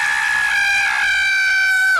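A sustained, high-pitched scream holds steady for about two seconds, loud and close, with no talking around it.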